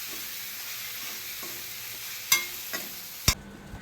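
Tomatoes fry and soften with onions in a covered pan for a spicy mutton gravy, giving a steady low sizzle with a few sharp metallic clinks from a lid or spoon toward the end, nearby and without speech.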